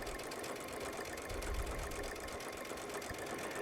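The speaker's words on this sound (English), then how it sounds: "I'm going to sew it right up to that center line and then stop it" Baby Lock Solaris sewing machine running with a dynamic walking foot, a steady, fast mechanical stitching hum with fine rhythmic ticking throughout.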